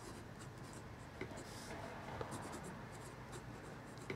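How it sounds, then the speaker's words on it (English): A TWSBI fountain pen writes on notebook paper with a soft, close scratching, faint and continuous, with a few light taps and strokes over about four seconds. "I've been writing in a TWSBI notebook."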